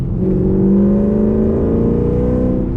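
A Volkswagen Golf Clubsport (bagged and cammed) revs from inside the car, its engine note rising and holding as a steady, loud drone for a few seconds with no talking.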